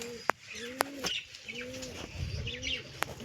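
Caged pigeon cooing in low, repeated throaty phrases, with sharp clicks and faint chirps mixed in, close and fairly soft over quiet background rustle.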